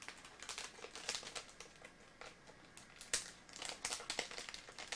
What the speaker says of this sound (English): I'm trying to get the bag opened